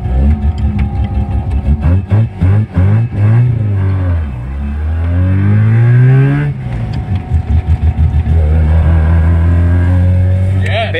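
Rotary-engined Mitsubishi Lancer pulling away, its engine loud and close with a rising and falling buzzing rev as it accelerates through gears, then settling into a choppy idle-like chatter.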